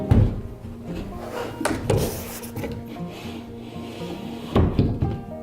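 A wooden TimberVaults shelf bracket scrapes and knocks as it slides over a shelf, giving close rubbing wood friction with a few sharp bumps and thuds at the start and near the end.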